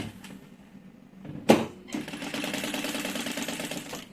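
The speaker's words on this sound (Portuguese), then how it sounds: "Eu vou fazer uma costura agora nos 3 cantos." A sewing machine stitches the corners of a fabric organizer. A sharp mechanical clack comes first, then a continuous fast whirring run of stitching that lasts a couple of seconds at moderate volume.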